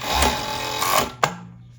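A Jack C4 overlock sewing machine stitches fabric in short, close bursts of fast mechanical whirring, with a sharp click as it stops.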